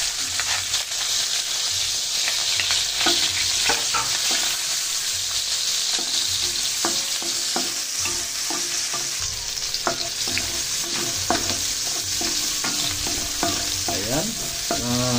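Garlic and onion sautéing in a pan for a creamy pork chop with mushroom, a continuous close sizzle with repeated spatula scrapes and clacks against the pan, no talking.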